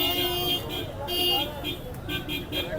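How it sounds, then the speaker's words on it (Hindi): Busy street traffic in Madina rumbles on with several short car horn toots sounding through it, close and fairly loud, while a person talks over the noise. "बहुत ज़्यादा आवाज़ आई है ट्रैफिक की"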